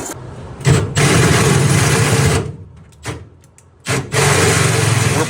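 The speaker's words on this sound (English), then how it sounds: "Next, we notch the tube with our Midler Brothers end mill style notcher." A Midler Brothers end mill style tube notcher cuts steel tube for G-Body chassis bracing, running as a loud steady motor whine with a cutting rasp, broken by several short stops and restarts.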